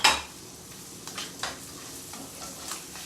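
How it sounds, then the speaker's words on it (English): Gravy for catfish is stirred in a pan, giving soft, close scraping strokes at a slow irregular rhythm over a faint background sizzle, with one sharp clatter at the start. "Gravy, you have to stir it consistently."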